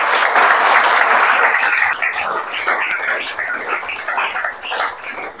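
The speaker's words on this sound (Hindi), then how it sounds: "जोरदार तालियों से" Loud, dense applause from an audience honouring students from economically poor families placed at L&T, sustained throughout and tapering slightly toward the end.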